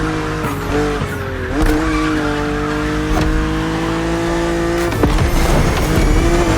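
A BMW Z4 E89 coupe cabriolet drives in the racing game The Crew Motorfest, its engine holding a loud, sustained tone with gear-shift dips and bursts of tire squeal.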